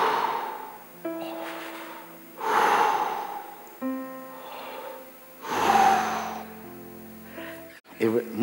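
Deep, heavy breathing imitated by a voice, slow drawn-out breaths repeating roughly every few seconds, close and fairly loud with soft voiced tones between them.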